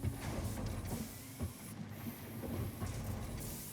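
In the video game Satisfactory, a factory machine makes screws with a quiet, steady mechanical whir and faint rhythmic clanks and hisses.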